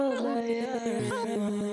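Vocal sample run through the FLUXX fragmenter preset, a sung tone chopped and randomized into stuttering fragments with octave shifts, moderately loud and alone.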